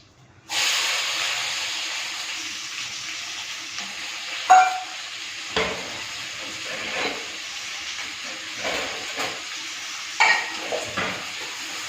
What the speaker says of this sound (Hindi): तो जो प्याज है वो डाल दी है